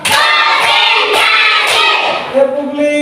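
A class group claps out a rhythmic clapping pattern in a school classroom. Several evenly spaced sharp claps sound under voices chanting along, close and loud.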